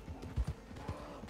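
Horse hooves clip-clop in Red Dead Redemption 2, a few soft irregular thuds over a low hum of game ambience.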